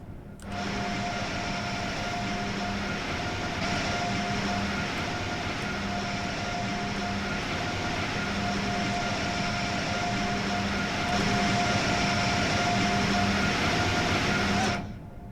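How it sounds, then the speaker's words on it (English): A TGV high-speed train with an AFB speed-control system runs in the Train Sim World 4 video game, giving a steady, unbroken engine drone with a faint repeating pulse that holds for the whole stretch and then cuts off abruptly. "this basically is a TGV with a AFB system."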